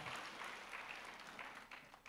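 Church congregation applauding during a service, a dense, faint, continuous patter of clapping with no pauses, heard from across the room.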